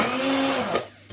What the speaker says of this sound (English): now the mushrooms are gonna be a bit like this, so I'm just gonna give that a bit of a whiz